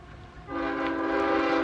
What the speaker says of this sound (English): Here comes the train. The train is honking.